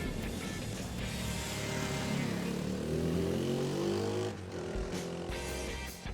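An SWM Superdual T motorcycle's engine drones steadily while riding, rising through the revs, with the tone shifting and dipping briefly near the end, close and continuous with wind noise.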